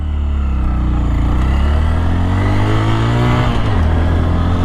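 A Honda Grom motorcycle riding on the road back from a canyon run, its small engine droning steadily close by with a rising and shifting pitch as it accelerates, no speech.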